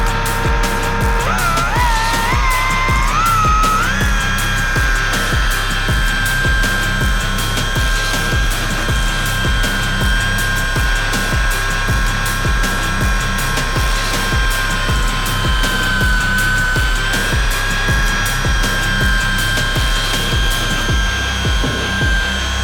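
A Makita rotary polisher with a yellow wool pad whines loudly and steadily, rising in pitch as it spins up early on and then holding a constant high-speed drone close by.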